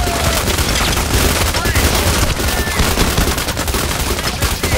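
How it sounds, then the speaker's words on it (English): Dense, continuous gunfire fills a shooting video game, rapid overlapping shots crackling loud and close for several seconds with voices faintly mixed underneath. "I just see how many people are shooting at you."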